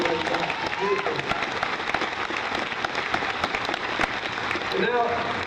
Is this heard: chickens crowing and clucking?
no